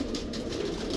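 Pigeons at a rooftop breeding loft give a soft, low, steady cooing that runs continuously through the brief moment, fairly close, with no talking.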